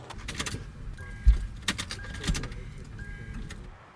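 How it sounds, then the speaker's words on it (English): A car with a dead battery failing to start when the key is turned, giving a few close clicks and short mechanical clunks but no engine catching. "Go ahead and try and crank it up, Renee."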